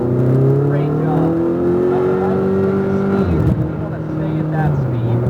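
A Ferrari 488 GTB on a track drive revs hard and loud from close by, its engine note climbing steadily, then dipping sharply as the gear changes before it builds again.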